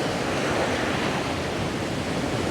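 Ocean surf rolling in at Myrtle Beach on a foggy winter day, heard as a steady, continuous wash of broadband noise with no distinct breaks or voices.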